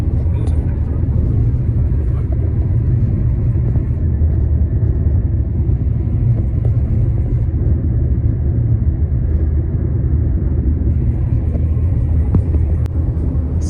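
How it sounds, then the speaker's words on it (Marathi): A steady low rumble of a car cruising at speed, heard from inside, with constant road and engine noise throughout. "शिवम शेट पण 100-200 स्पीडने गाडी पळवत आहे"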